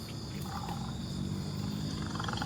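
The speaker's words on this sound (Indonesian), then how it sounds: "Dengar suara harimau gak?" A deep, rough tiger roar rumbles through the hollow space of a stone cave, fairly faint and drawn out in low growling pulses over a muffled background, with no voices.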